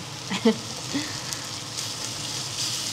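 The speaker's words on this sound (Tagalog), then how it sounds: "Magpiprito na ako ng itlog dye para mabilis." Eggs beaten with milk fry in a pan, giving a soft, steady sizzle with a few clinks and stirring touches early on; the sound is close but fairly quiet, with a hint of voice.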